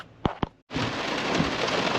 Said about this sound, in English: Sorry that it is so loud with the rain. You can see it's still pouring.